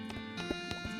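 Video game horse sounds from an intoxicated horse, with clip-clopping hooves and snorting bursts repeating in a quick irregular rhythm over a constant droning musical bed.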